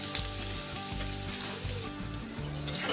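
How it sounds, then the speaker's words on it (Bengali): Onions sizzle in hot oil as they fry until reddish, a continuous bubbling hiss up close with soft music underneath and no speech. "পেঁয়াজগুলো লাল লাল করে ভেজে নেব।"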